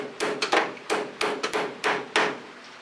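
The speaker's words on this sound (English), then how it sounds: "I'll just tap it in with, start it in with a hammer" A hammer strikes a sprocket onto the shaft of a Polaris 400L 4x4 ATV in about eight sharp metallic taps, irregularly spaced and close, with no talking.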